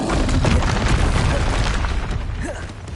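A Repulsor spell blast from Hogwarts Legacy lands as a loud, booming burst with a rumbling low end, decaying over a few seconds amid dense game effects.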